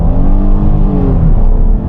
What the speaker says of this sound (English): if we launch here, a little bit of tire spin